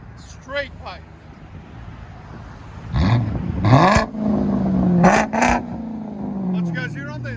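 A BMW 545i with a straight-pipe exhaust revs hard in several loud, rising bursts, each climbing and then falling back to a rumbling idle. Brief voices are heard near the start and end.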